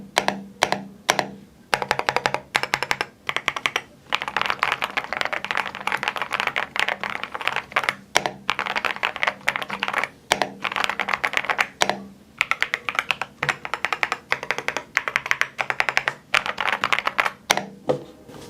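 Fast typing on a YUNZII C75 mechanical keyboard with stock hot-swappable switches: a dense, steady stream of close, crisp clacks with brief pauses between bursts, and no voices.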